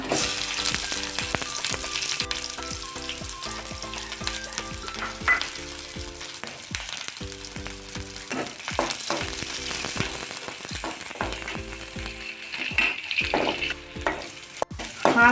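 Onion and garlic cloves frying in hot oil in a pan for palak paneer, a loud, close, continuous sizzle with frequent stirring scrapes and clicks throughout, and no talking.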